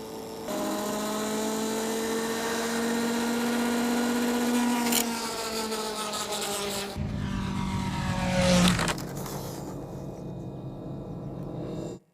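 A hand-launched flywheel-powered model airplane whirs with a loud, close, rising spin tone that steadies, then pitches down and fades abruptly near the end.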